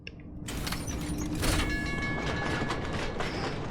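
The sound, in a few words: subway train running in the video game F.I.S.T.: Forged In Shadow Torch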